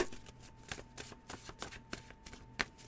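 A homemade tarot deck is shuffled by hand, with soft riffling flicks and taps repeating in a quick, uneven rhythm, quiet and close.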